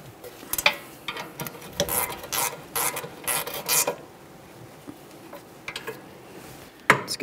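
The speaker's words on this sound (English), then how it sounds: "torque those to 74 foot-pounds. After you've torqued them to 74, you need to continue an additional 60 degrees" Mechanical clicks and ratcheting from a torque wrench tightening a rear brake caliper mounting bolt on a 2013-2015 Chevrolet Malibu, coming in irregular close bursts with quiet gaps between.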